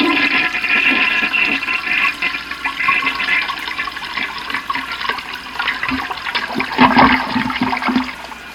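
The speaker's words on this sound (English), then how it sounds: "The upstairs toilet flushed." An upstairs toilet flushes in a steady rushing, gurgling wash of water that carries on for several seconds at a moderate, fairly close level.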